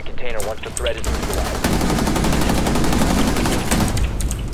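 Rapid gunfire from a teammate in the tactical shooter Rainbow Six Siege, dense and continuous bursts for several seconds, loud and close, with laughter and talk under the shots.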